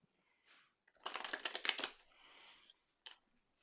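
Tarot cards riffled and shuffled by hand during a card reading, a dense burst of rapid papery flutters and snaps lasting about a second, then a softer slide and a couple of isolated card taps, close and fairly quiet.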